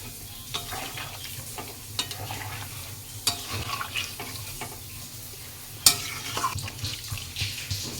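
Water is poured into a pan of frying fish egg fritters in spiced curry gravy, a sizzling, bubbling stir with scattered utensil clinks and a sharper clatter midway, no speech.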